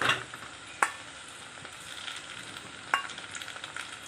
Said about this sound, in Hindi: सब में पहले ये जो अदरक लहसुन का पेस्ट है ना, ये डाल दूंगी